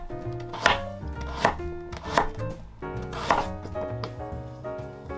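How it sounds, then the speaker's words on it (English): Knife chopping daikon radish on a cutting board in a home kitchen: a handful of sharp, evenly spaced chops over soft background music, no speech. "For daikon, you can do quarter slices, or have them again if the pieces feel too big."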